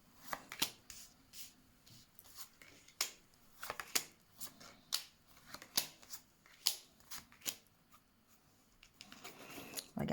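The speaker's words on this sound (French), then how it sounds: "on va faire le tirage en 9 cartes." Tarot cards are shuffled and drawn by hand for a nine-card spread, giving a run of crisp snapping and flicking clicks at an irregular rhythm, close and fairly quiet, with no voice.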